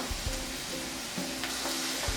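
Onions fry in a pan for a Nepali yogurt curry, a continuous soft sizzle with light stirring scrapes and clicks, close and fairly quiet.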